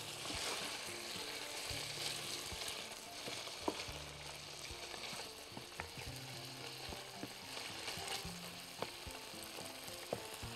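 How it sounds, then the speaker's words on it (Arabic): Chicken pieces frying in a pan, a steady, faint hiss of oil with occasional light clicks and taps of a utensil, continuous and low in level throughout, with no talking. "بس هتبتدي الفراخ عندنا تتحمر"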